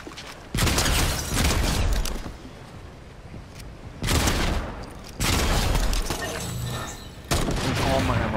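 Bursts of pistol fire in the Fortnite video game crackle in clusters with brief gaps between them, loud and dense, mixed with other game noise.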